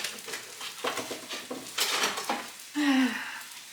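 A metal spatula scrapes and clatters against a frying pan while flipping sourdough discard flatbread and crispy fried pollock, giving a run of close, uneven scrapes and clanks, then a sharp squeal of metal on the pan near the end.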